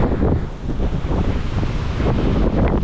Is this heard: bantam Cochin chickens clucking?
no